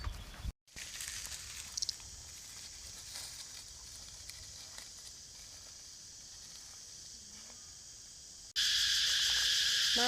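Cicadas drone in a forest with a steady, high, shimmering buzz that stays fairly faint, then suddenly swells much louder and closer near the end.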